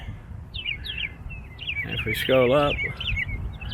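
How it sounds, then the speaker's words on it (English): A small bird sings from the top of an outdoor sculpture in a sculpture field in Chattanooga, Tennessee, repeating bright chirps and short trilled phrases at moderate distance while someone talks over it. "see there's actually a bird up there singing on top of it"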